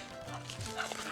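A dog barks a few times up close, short sharp yelps over a steady low background hum.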